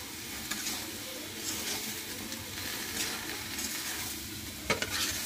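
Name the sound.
frying and stirring with onion, chili and spices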